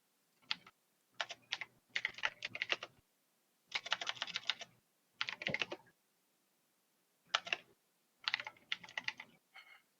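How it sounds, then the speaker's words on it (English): Loud typing on a computer keyboard comes in separate hard-struck bursts of rapid clacking keys, close up, split by short silent pauses. "It's a very loud typing."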